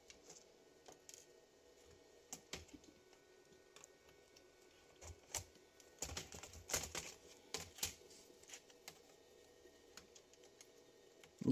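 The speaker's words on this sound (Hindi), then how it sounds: "ये कीबोर्ड इसका ओपन हो गया।" Keyboard being pried out of a Toshiba Satellite laptop under repair for a black screen fault, giving sparse small plastic clicks and ticks with a denser burst of snapping clicks midway, near and fairly quiet.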